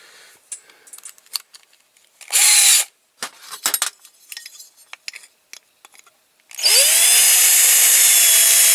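A power drill whirs in two bursts, a short spin and then a longer sustained run, separated by clicks and handling clatter nearby.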